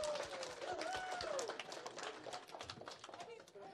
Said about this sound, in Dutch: Een applaus.